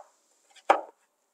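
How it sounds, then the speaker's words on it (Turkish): Zucchini strips being chopped into small pieces with a knife: a faint tap followed by one crisp, close chop against the board, then quiet. "Şerit haline getirdiğim kabaklarımı minik minik doğruyorum"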